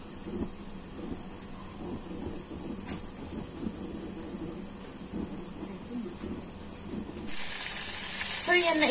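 Broth poured into a pan of roasted pork and winter melon makes a steady, soft splashing and trickling. It grows louder and brighter near the end.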